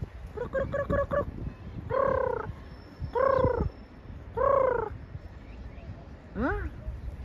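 Green parrots call outdoors in a run of harsh, rising-and-falling squawks, one after another, some in quick stuttering bursts, close and fairly clear over faint background noise.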